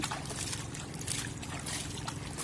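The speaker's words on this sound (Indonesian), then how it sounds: "Lanjut kita siram menggunakan air bersih dari sungai ini." Clean river water is poured over a small toy sand truck, a steady close trickle and splash running for a couple of seconds without speech.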